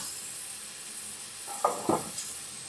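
Shrimp being lightly fried in oil in a pan give a steady soft sizzle, broken near the end by two brief louder stirring scrapes.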